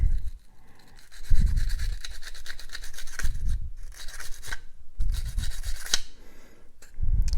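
Brisk, close bristle scrubbing of Glock 43X pistol parts with a cleaning brush comes in bursts of raspy strokes with short pauses between them, and no one speaks.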